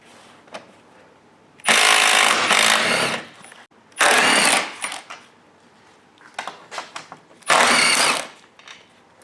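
Bolts on the front strut mount of a 2009–2016 Audi B8 are being removed. Three loud, harsh bursts of a power tool each last about a second, separated by quieter clinks and handling noises.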